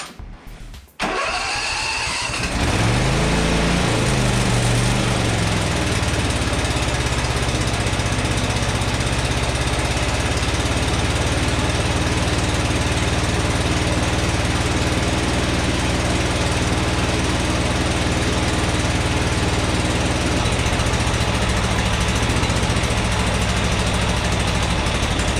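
A Husqvarna Z246 zero-turn mower engine cranks, catches and starts within the first couple of seconds, then runs close and loud at a steady, even roar for the rest of the clip.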